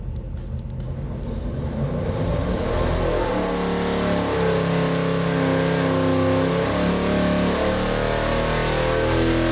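A race engine on a tuning pull roars continuously at high revs, loud and close, its pitch stepping and wavering as the throttle is held, with no voices over it.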